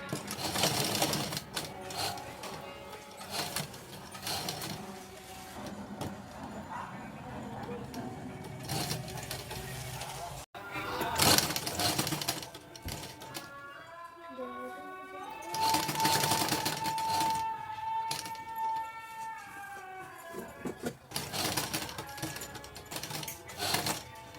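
A sewing machine stitches the front neck of a top. Several bursts of rapid, rattling stitching sound close by and stop and start, with a person talking between the runs.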